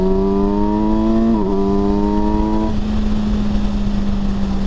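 A 2021 Kawasaki Versys 1000 LT SE+ motorcycle accelerating produces a steady, smooth engine drone with a brief dip mid-way, then settles into a lower, constant tone over a wash of wind noise.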